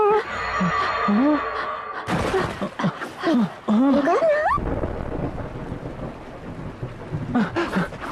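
Heavy rain pours steadily in a scene from a Hindi-dubbed Pokémon movie, a loud broad wash under animated voices, gasps and music, with thunder-like rumbles in the second half.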